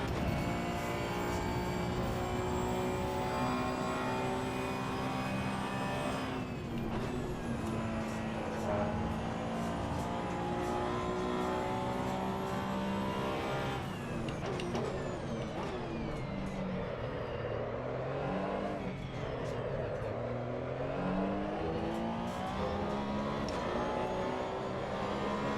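A race car in the Assetto Corsa EVO racing game drones loudly and steadily, its engine rising and falling through upshifts with a break around the middle. Tyre noise blends into the constant roar, and no one talks over it.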